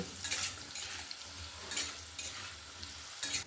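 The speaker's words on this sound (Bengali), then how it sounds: "এবার আলুগুলোকে মাঝারি আঁচে বেশ লাল করে ভেজে নেব" Potatoes frying in oil over medium heat for a capsicum potato curry, with a soft steady sizzle broken by periodic bursts of stirring and scraping in the pan.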